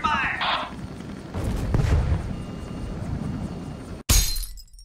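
Video game gunfire and crashing impacts from the Henry Stickmin Collection while returning fire on an airship, bursts of shots and breaking debris, then a sharp loud blast near the end, with a voice talking over it.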